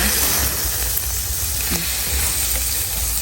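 Eggs sizzle and crackle on a hot moo kratha grill pan in a loud, continuous frying hiss with no talking.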